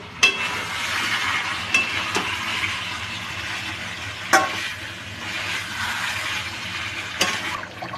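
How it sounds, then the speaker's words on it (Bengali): Chicken kosha being stir-fried in a pan as fried potatoes are added: a steady, close sizzling hiss broken by a few sharp knocks of a spoon against the pan. "কষানোটা কিছুটা হয়েছে, এবার আমি ভাজা আলুটা দিয়ে দেবো"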